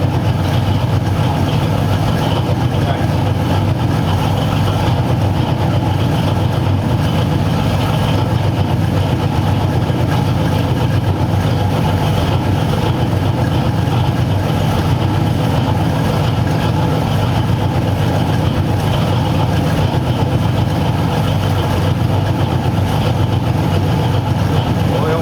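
A 1936 Ford panel truck engine runs steadily with a low, even rumble throughout, close and constant with no breaks.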